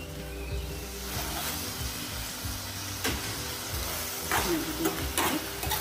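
Cauliflower florets tossed into a hot pan for bisibelebath, frying with a steady sizzle while a spoon scrapes and stirs in irregular clatters, close and moderately loud, with no talking.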